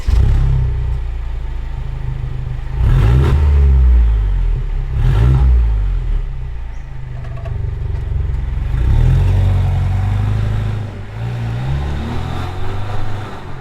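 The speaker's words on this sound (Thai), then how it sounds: "เสียงท่อตอนปิดวาล์วเนี่ย แอบคล้ายกับเสียงของท่อบาบัส" A Mercedes W212 with a valvetronic exhaust, recorded from inside while driving, gives a loud, deep engine drone with several revving surges through its exhaust.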